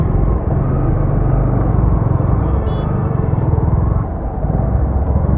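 A vehicle engine labours up the steep Khandala Ghat road in first gear, a loud, steady low rumble that holds throughout without talk.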